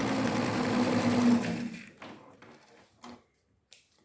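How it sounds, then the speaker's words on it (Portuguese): A sewing machine runs a safety seam to hold darts in place, with a steady close whirring stitch for about a second and a half, then slowing to a few separate clicks and taps. "eu vou passar aqui uma costurinha de segurança para segurar essas minhas pencezinhas aqui"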